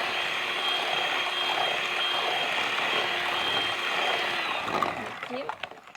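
Sponge cake batter being mixed after milk is added, a steady loud whirring drone of a motorized mixer running continuously before cutting out near the end.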